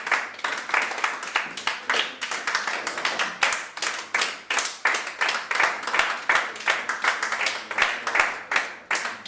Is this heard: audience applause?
yes